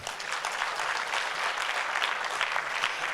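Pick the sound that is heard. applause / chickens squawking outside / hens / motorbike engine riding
applause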